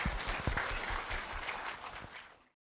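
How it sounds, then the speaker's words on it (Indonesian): Audience applause at the opening of a family gathering event, a dense wash of many hands clapping that holds steady, then fades out and stops after about two and a half seconds. "Supaya bersemangat kita berikan aplaus dong buat Pak Stephen ya."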